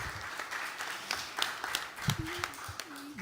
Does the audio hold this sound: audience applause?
yes